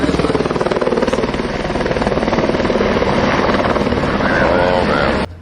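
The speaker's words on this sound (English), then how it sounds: "Yeah, but we are in the chopper." Helicopter cabin noise from inside a chopper in flight through turbulence, a loud steady rotor thrum and engine drone throughout, with a passenger's voice faintly under it.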